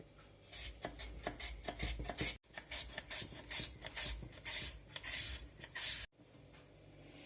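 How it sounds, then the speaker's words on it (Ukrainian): Peeled carrots being shredded on a special Korean carrot grater, a steady series of close, rhythmic rasping strokes with two brief pauses between runs. "Далі її потрібно очистити і нашинкувати ось на таку спеціальну тертку."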